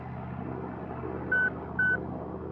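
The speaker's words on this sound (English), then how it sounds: "If anyone knows how to turn off the landing gear beeping, let me know." Landing gear warning in the X-Plane 11 flight sim, two short electronic beeps spaced about half a second apart over a steady cockpit engine hum.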